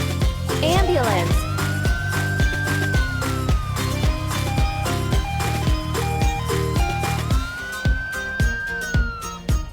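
An ambulance siren wails in a truck-themed children's video game, rising and falling over bright, loud, rhythmic game music throughout.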